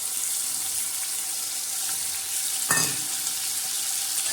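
Green chili masala dropped into hot tempering oil for black urad dal, giving a steady hiss of sizzling and one brief louder crackling burst partway through, close and even.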